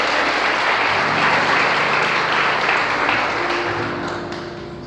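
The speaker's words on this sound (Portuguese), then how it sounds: "Pode aplaudir a Ele mais forte" A church congregation applauds loudly, a dense wash of many hands clapping close and sustained before tapering slightly at the end, with faint voices mixed in.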